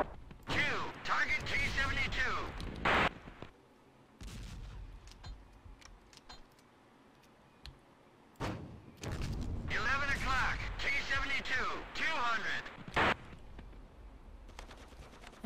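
Gunfire rings out in the video game Operation Flashpoint: Cold War Crisis, with loud bursts and rattling volleys in two clusters separated by a quieter stretch, mixed with sharp single shots.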